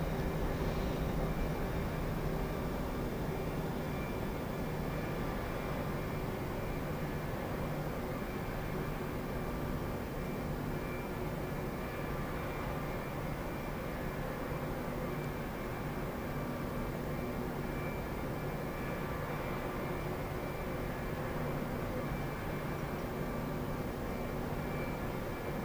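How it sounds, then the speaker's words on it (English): Steady engine hum and broadband rumble of an airliner taxiing toward the gate at Los Angeles in Microsoft Flight Simulator X, continuous and even throughout with no talking. "we're going to get over to our gate real quick, which is going to be real close on the taxi here."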